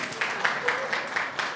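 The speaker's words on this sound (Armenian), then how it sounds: "մի հատ ծափահարություններ Եղսիկ տատիկին" A group claps for grandmother Yeghsik at a 60th birthday celebration: faint, steady rhythmic clapping in unison, about one beat every quarter second, fairly distant.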